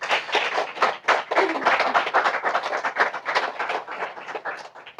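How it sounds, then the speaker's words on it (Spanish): A church congregation claps in praise during a sermon, a choppy, fairly steady patter of many hands at moderate loudness, lasting several seconds. "Dale un fuerte aplauso al Señor, pues."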